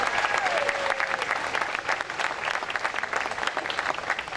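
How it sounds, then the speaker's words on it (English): Audience applause at the unveiling of a Dr. Martin Luther King Jr. statue in Essex County, a steady dense patter of many hands clapping for several seconds, with a faint whistle-like tone sliding down near the start. "I'd like for us to give you another hand clap."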